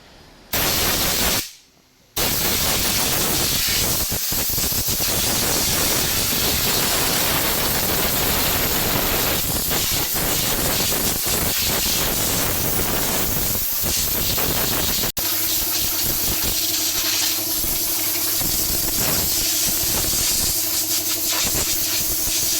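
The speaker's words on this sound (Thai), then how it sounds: "การเป่าฝุ่นหน้าหม้อน้ำให้ จนสะอาดนะครับ" A loud, continuous hiss of compressed air blasting dust off the radiator of an Isuzu Rodeo 4WD pickup, briefly cutting out near the start and then running steadily for a long stretch.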